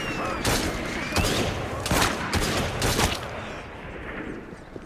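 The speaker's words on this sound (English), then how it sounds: "Fire your weapons! Shoot now!" A volley of gunfire in the video game Assassin's Creed Syndicate: several loud, overlapping musket-like bursts in quick succession, then fading into rumble, with shouting voices.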